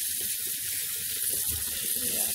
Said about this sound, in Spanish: Ahorita nomás estoy limpiando the peppers and the tomatoes, los tomates y los enjuagando los peppers y los tomates